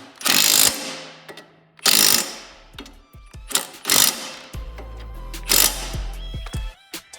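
Bolts being tightened on a Honda push mower during basic service, heard as several bursts of rapid clicking and ratcheting, close and fairly loud, separated by short pauses.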